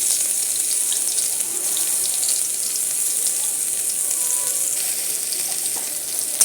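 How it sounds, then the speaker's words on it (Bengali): Garlic fries in hot oil in a wok for a home-cooked dish. A steady, bright sizzle continues evenly throughout, with no voices and only faint crackles. "এবার আমি তেলটা গরম হয়ে গেলে রসুনটা দিয়ে দিচ্ছি।"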